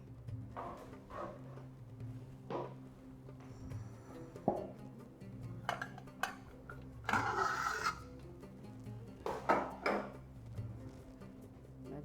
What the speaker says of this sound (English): Let's grab a pressure cooker.